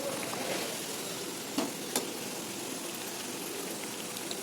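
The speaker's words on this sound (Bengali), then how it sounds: "মিডিয়াম লো টু মিডিয়ামের মাঝখানে রেখে হালকা আঁচে এটাকে সুন্দরভাবে লালচে লালচে করে ভেজে নিতে হবে" Kachori deep-fries in oil over medium-low heat, a steady hissing sizzle throughout with a couple of brief sharper pops, moderately quiet and close.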